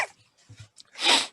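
A single close sneeze bursts out sharply after a few quick preparatory breaths.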